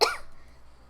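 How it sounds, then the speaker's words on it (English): A single sharp cough from a coughing fit in the video game Hello Charlotte, close and abrupt, then quickly fading to quiet. "I lose my balance in a coughing fit"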